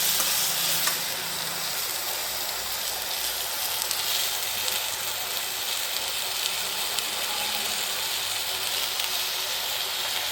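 Ingredients for paneer butter masala sautéed in a pan give a steady, close frying sizzle with stirring scrapes throughout, no voices heard.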